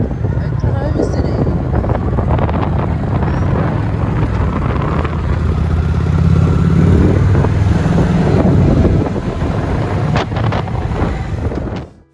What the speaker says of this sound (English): we got on the bike again and went for a bit of a look around town